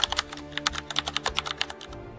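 Rapid typing on a computer keyboard, a dense run of crisp individual key clicks at an uneven quick rhythm, close and clear with no talking.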